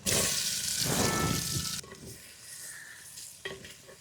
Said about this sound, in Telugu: వీటిలోనే కాకరకాయలు బాగా ఫ్రై చేసుకోవాలా